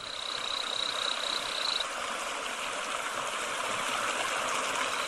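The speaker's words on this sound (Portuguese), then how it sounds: "A rã da cachoeira." Loud rushing waterfall water roars continuously while a small waterfall frog in Brazil gives a high, rapid chirping call for a couple of seconds near the start.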